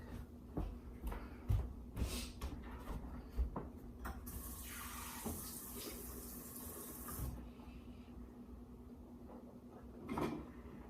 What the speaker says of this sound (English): Let me rinse my mouth out real quick.